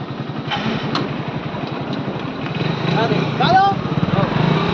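A motorcycle engine runs nearby with a low, steady pulsing putter that grows a little louder toward the end, heard under voices talking.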